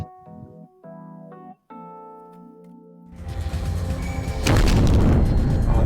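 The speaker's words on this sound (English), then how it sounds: "Oh, that's a crunchy explosion noise." A crunchy explosion in the video game Blast Chamber, a loud, dense burst of noise that swells and roars after a few seconds of synthesized chiptune-like tones.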